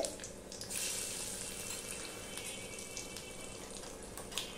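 Bay leaf tempering fries in hot oil with a steady, close, crackling sizzle and hiss throughout, a few brief pops near the end, and no talking.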